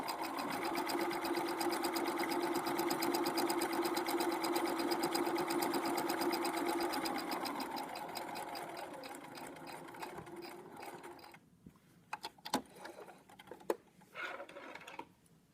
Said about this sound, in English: So I'm going to back stitch and sew my top edge.